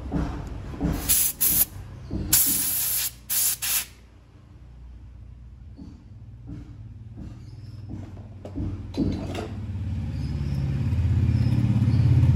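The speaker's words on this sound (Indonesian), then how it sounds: "Coba buntu atau kecil kita semprot." Bursts of carburetor cleaner spray blasting into the small pilot jet of a Mazda Interplay carburetor, several sharp hisses in quick succession, then quieter handling noises as a low engine-like hum builds steadily.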